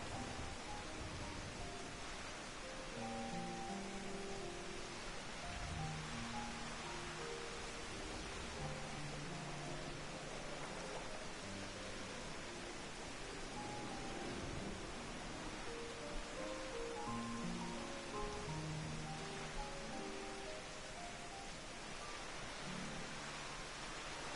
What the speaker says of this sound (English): You gotta love the dramatic rain.